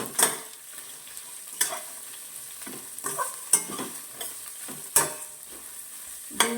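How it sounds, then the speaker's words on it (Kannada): Spice masala frying in a pan for Malnad-style fish sambar, a steady sizzle under repeated sharp scrapes of stirring at intervals, close and moderately loud with no talking. "ಸೊ ಇದನ್ನು ಆ್ಯಡ್ ಮಾಡಿಕೊಂಡು ಸ್ವಲ್ಪ ಫ್ರೈ ಮಾಡ್ಕೊಳ್ಳಿ"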